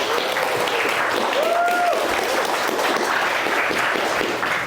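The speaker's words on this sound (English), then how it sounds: "let's give ourselves a huge round of applause for these speakers coming out tonight" An audience at a social media event applauds speakers steadily and fairly loudly for several seconds, with a brief whistle rising above the clapping.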